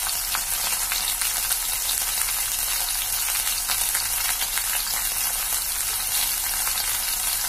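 Brinjal sautés with onion and crushed garlic for a pepper roast, giving a continuous, even sizzle and crackle close by with faint stirring. No voices are heard.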